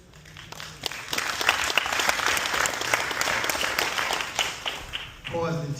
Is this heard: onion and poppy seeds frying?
no